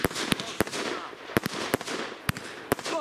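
Small consumer firework launcher firing a rapid series of sharp cracking shots at uneven intervals, some bursts louder and closer than others, with no talk over them.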